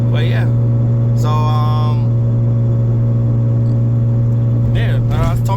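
An old car's engine drones loudly and continuously while driving on a road trip after a last-minute repair, a steady low hum with brief voice-like sounds near the start and end.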